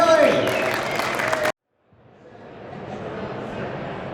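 Audience applause at a live podcast recorded at a trade show, a loud burst for about a second and a half that cuts off abruptly, then a softer crowd swell rising back up.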